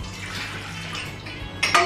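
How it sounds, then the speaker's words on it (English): Warmed milk poured into a mixing bowl while making cinnamon roll dough, a soft continuous liquid splash close by that swells briefly louder near the end, with no talking. "pour your warmed milk into the mixing bowl"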